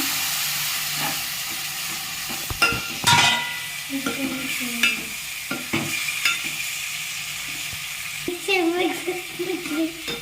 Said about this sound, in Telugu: బోటి వేసుకుంటున్నాం.